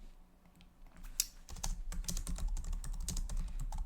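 Keyboard typing in a soft-spoken planning roleplay, close rapid key clicks that start sparse and then settle into a dense, steady run, with no talking.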